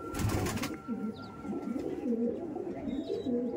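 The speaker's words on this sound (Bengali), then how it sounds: "এসব বাড়ির পুরনো পায়রা, তাও দেখুন এই দেখুন ব্রিডিং পেয়ার" A breeding pair of old green Madras pigeons in Kolkata coo softly and close by, a few low throaty rolling calls repeating after a brief rustle.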